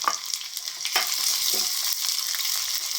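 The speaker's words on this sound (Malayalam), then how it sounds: "ഇഞ്ചി നല്ലപോലെ മൂത്ത് വരുന്നുണ്ട് കേട്ടോ" Ginger and green chillies fry in hot oil with a bright, crackling sizzle and a few sharp pops, loud and close.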